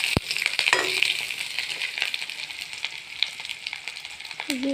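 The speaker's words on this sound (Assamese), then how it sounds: "এতিয়া পিঁয়াজখিনি অকণমান ভাজি লৈছোঁ।" Chopped onions fry in hot oil with a bay leaf in a pan for an Assamese pea ghugni curry. A steady close sizzle with light stirring runs throughout, and a sharp knock sounds near the start.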